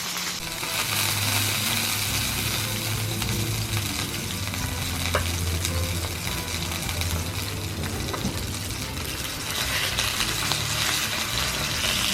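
Slices of snapper fish frying outdoors give a steady, crackling sizzle of hot oil that runs unbroken throughout.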